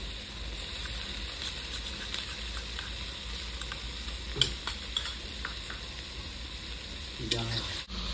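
Ginger, garlic and green chili paste going into sizzling rui fish biryani gravy in a pan, a steady loud sizzle and hiss with brief scraping stirs, ending in a sudden clatter.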